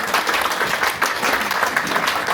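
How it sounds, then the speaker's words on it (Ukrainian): Enthusiastic audience applause at an anniversary charity concert of a Ukrainian art and music school, thick continuous clapping filling the whole moment at a steady loud level. "запросити під шалені оплески колективу учнів"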